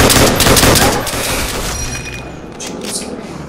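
In Call of Duty Zombies, on the Nacht map, loud close bursts of automatic gunfire rattle off in quick succession, then fade into scattered shots and echoing impacts.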